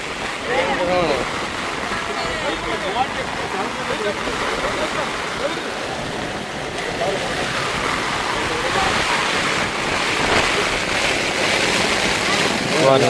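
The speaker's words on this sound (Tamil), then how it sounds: "ஐயோ அம்மா சரியான காற்று" Strong, steady wind roars with heavy rain and crashing surf at the shore, a continuous loud rush with a voice faintly heard under it.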